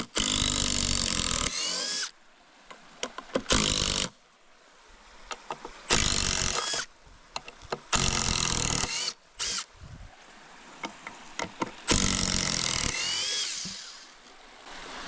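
An impact driver backs out screws to free a tree from a zipline mount, giving loud close bursts of whirring and rattling hammering, several separate pulls of a few seconds each with quiet gaps between them.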